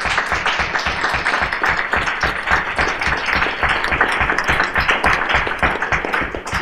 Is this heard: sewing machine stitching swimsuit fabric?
no